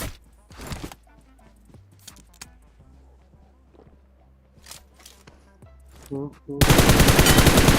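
Scattered sharp shots and clicks ring out in a PUBG Mobile match, then a loud sustained burst of automatic fire closes the clip.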